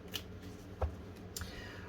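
A short flurry of tarot cards being shuffled, heard as quiet papery riffles with a few sharp flicks and taps, close by in an otherwise calm room, with no one speaking.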